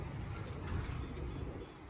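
Pigeons kept in a loft make a faint mix of soft cooing and fluttering wingbeats, low and murmuring, with a few light flaps in the background.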